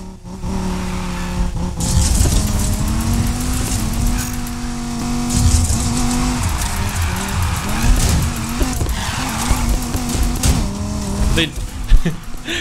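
A drift car in Need for Speed Heat roars loudly with a revving engine and long tire squeals as it slides through corners, while someone talks over the game sounds.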